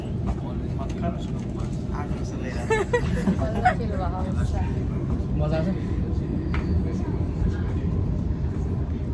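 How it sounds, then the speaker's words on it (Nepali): A steady low rumble of a moving train fills the scene, with people chatting and brief clatters above the constant rolling noise. "फाइनली हामी ट्रेन चढिसकेका छौँ"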